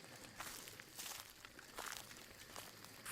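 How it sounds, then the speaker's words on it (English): Slow, careful footsteps crunch through leaf litter in dark woods at night, soft and fairly close, a few deliberate steps spaced across the quiet. "Footsteps, slow and careful ones."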